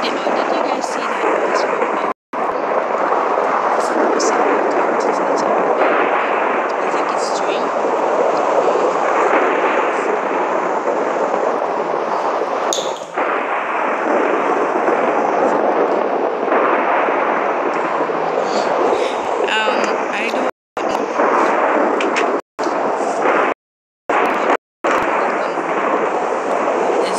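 Thunder from a lightning strike in Minecraft rolls as a long, heavy rumble with booming swells, loud and sustained, while a player talks over it and brief dropouts cut in near the end.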